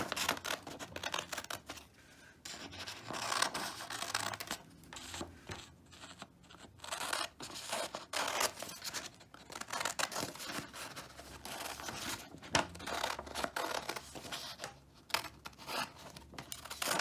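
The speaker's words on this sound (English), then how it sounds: "And we're going to cut it out." Scissors snip through a paper envelope template in one piece along the outer line, a steady run of close crisp cuts with paper rustling and crinkling between them, no talking.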